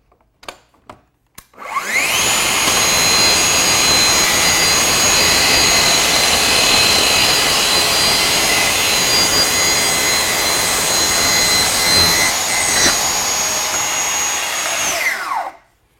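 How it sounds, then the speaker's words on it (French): A Festool TSC55 plunge saw cuts the length of its splinter guard, a loud steady whining roar that starts abruptly after brief clicks and runs for about fourteen seconds before winding down. "placez votre scie en bout et venir découper le pare-éclat sur toute sa longueur"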